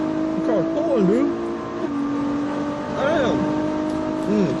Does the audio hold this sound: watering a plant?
no